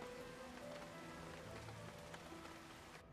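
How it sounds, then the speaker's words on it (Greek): Steady, faint rain falling on a surface, a continuous soft hiss with scattered drops throughout and no voices. "Πάλι βρέχει."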